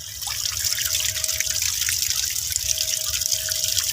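Spring water trickling and dripping from a hole in the ground, a steady close splashing patter with a faint constant tone running through it, no voices.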